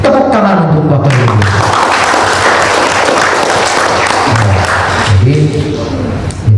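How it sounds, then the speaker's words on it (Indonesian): Applause from an audience of teachers at a diagnostic assessment training session, steady dense clapping filling the room for several seconds, with a speaker's voice heard briefly at the start and again near the end. "Tepuk tangan untuk Bapak Ibu."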